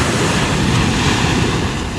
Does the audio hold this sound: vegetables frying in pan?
no